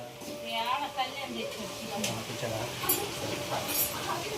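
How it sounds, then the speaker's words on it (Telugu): Chicken sizzles and hisses in a pan with occasional stirring scrapes, while people talk over the frying. "అదిగో చికెన్ తెచ్చి ఫ్రై చేస్తుంటే"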